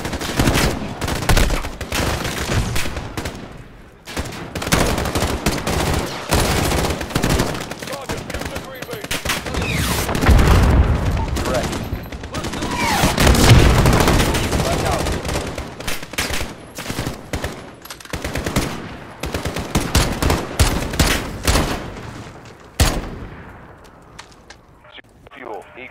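Rapid gunfire from the video game Call of Duty Modern Warfare, dense bursts of automatic fire and single shots crackling loudly and continuously for the whole stretch, with voices talking over the battle.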